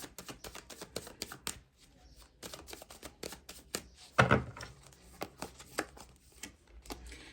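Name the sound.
shuffling and drawing tarot cards from a deck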